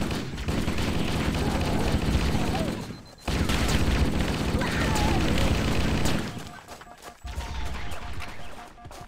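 SMG gunfire in the Halo video game on The Silent Cartographer mission, loud rapid bursts with a brief pause partway through, then continuing and tapering off toward the end.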